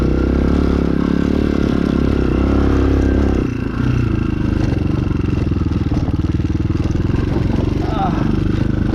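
A Chinese 250cc dirt bike engine drones loud and close as it churns through deep mud, its steady mid-pitched buzz shifting once as the rider changes throttle, with clattering and splashing mixed in.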